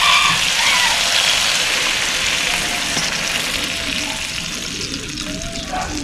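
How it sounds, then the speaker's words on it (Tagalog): Water poured into a cooking pot of broth with lemongrass, a continuous loud splashing and bubbling hiss that tapers slightly, with no talk over it. "Lagyan natin tubig para ating palambutin."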